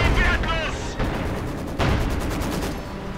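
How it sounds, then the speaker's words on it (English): Howitzer artillery firing in Company of Heroes 2, two loud booming shots with rumbling tails about a second apart, a few other battle sounds around them. "artillery again, the howitzer firing once more"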